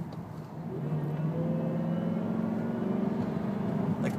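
A supercharged 2004 Jaguar S-Type R accelerates from low revs, a smooth, rising engine hum growing steadily louder from inside the car with no talk.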